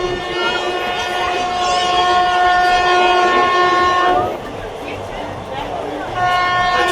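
The Haldibari Express passes Dankuni station with a loud, sustained horn over the rumble of the rails. The horn drops out for a moment of running noise and then sounds again.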